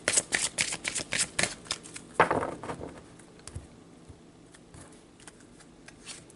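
Tarot cards riffled and shuffled by hand in a quick burst of crisp, papery flutters, close and clear, then a few softer taps and slides as the deck settles.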